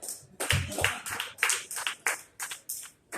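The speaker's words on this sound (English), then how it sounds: "let's clap for that" A small group clapping in uneven bursts, about a dozen distinct claps with short gaps, fairly close and moderately loud.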